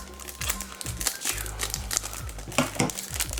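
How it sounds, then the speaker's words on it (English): Plastic packaging holding Ultra Pro cards is ripped open by hand, giving a close, steady run of crinkling and tearing bursts for a few seconds. "I'm just gonna rip it the rest of the way"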